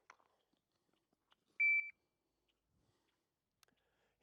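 A shot timer gives a single short, sharp electronic beep in an otherwise quiet moment during a pistol recoil drill, with faint clicks before and after.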